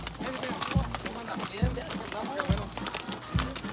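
Horses' hooves clip-clop in a regular plodding rhythm during a mounted cavalcade at a patron saint festival for the Virgin of Guadalupe. The hoofbeats sound fairly close and steady beneath a busy background of crowd noise and voices.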